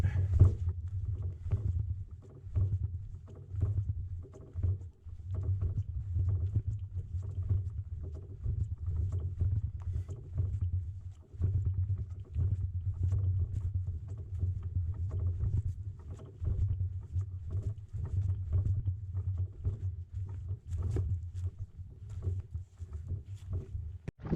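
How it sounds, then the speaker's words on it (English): Paddle strokes from a solo canoe crossing Head Lake in Algonquin Park, each dip and pull a soft splash and knock repeating in an even rhythm, fairly quiet and close with no talk. "So we just have to paddle Head Lake and find a campsite."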